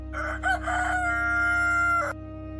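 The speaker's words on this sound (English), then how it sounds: "At that very moment, a rooster crowed." A rooster crows once in a single long cock-a-doodle-doo that rises, holds steady and breaks off at the end, clear and close over a low steady hum.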